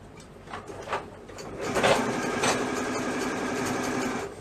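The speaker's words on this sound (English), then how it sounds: "So I'm pulling as I'm sewing and feeding it through the machine." Sewing machine stitching elastic onto a boys' pajama set, starting with a few short bursts and then settling into a steady whirring run.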